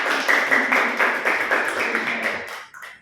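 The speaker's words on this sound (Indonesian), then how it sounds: "Oke, tepuk tangan untuk semua." A small group in a classroom counseling session claps together, a short burst of close, brisk applause that fades after about three seconds with no talking.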